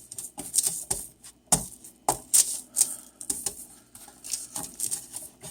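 Hands squeeze and work a rough one part sand to three parts clay mix, producing irregular gritty crackles and crunchy bursts that come close and fairly loud, one after another.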